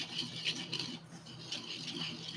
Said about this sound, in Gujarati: હવે આમાં આપણે દૂધ એડ કરવાનું છે અને એકદમ સરસ મિક્સ બધું કરી લેવાનું છે